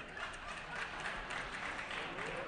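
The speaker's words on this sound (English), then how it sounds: "Members, no clapping on the floor." Assembly members clap briefly on a legislative floor, a dense burst of applause lasting a couple of seconds.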